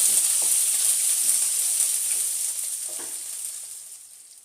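Onions saute in a pan for a raw banana stir-fry, giving a steady close hiss and sizzle that slowly fades, with no talking.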